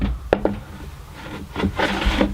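Wooden table top sliding and bumping onto a drill press in a workshop: a couple of sharp knocks, then a stretch of rough scraping and rubbing of wood on metal, close and moderately loud.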